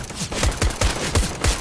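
Rapid automatic gunfire in Counter-Strike: Global Offensive, a loud close burst of about six or seven sharp shots in quick succession with a steady rhythm, no voices over it.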